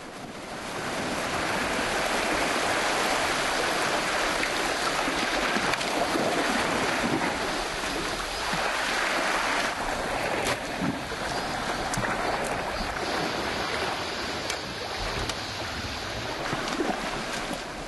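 Rough sea waves wash steadily against the rocky shore of a remote island. The surf is loud and continuous, with heavy wind buffeting throughout.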